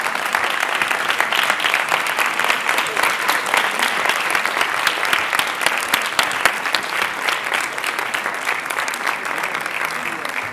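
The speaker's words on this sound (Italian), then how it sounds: "Potete applaudire, sì." Audience applause at a film screening closing the 30th Settimana Internazionale della Critica for Antonio Capuano's Bagnoli Jungle: continuous, even clapping from a large hall that holds steady for about ten seconds.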